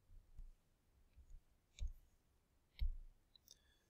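Calculator keypad buttons pressed to enter an expression, a few soft, separate clicks spaced about a second apart, close and quiet with nothing else around them.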